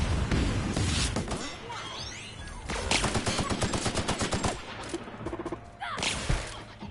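Loud, rapid bursts of gunfire crackle almost without pause, with dense rattling volleys and brief heavier blasts close by throughout.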